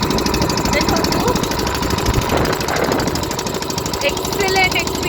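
Motor boat engine droning steadily during a beach boat ride at Jampore, Daman, loud and continuous with a rattling vibration, while people talk over it.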